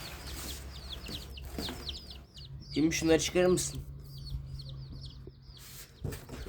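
Four small chicks peep in quick, high chirps throughout, close by, while a person speaks briefly over them.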